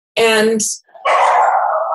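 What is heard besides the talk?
dogs barking and howling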